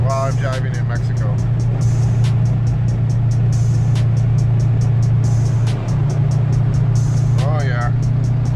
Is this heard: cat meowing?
no